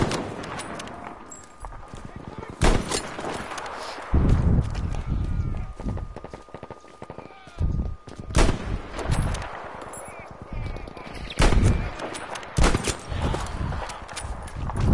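Gunfire from Battlefield 1 breaks out in loud irregular bursts of sharp shots mixed with heavy thuds and rustling movement, while a person talks in between.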